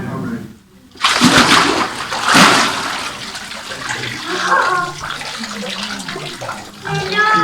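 Water splashes and sloshes as a person is immersed during a church baptism, a short drop to near silence followed by loud surging water with voices and crowd murmur continuing underneath.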